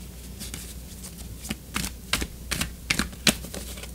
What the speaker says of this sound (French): Je vais tirer une autre carte pour comprendre davantage